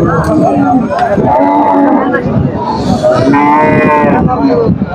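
Cattle and other livestock call out at a busy weekly cattle market in Naogaon, with lowing and bleating mixed into a noisy crowd of people talking nearby.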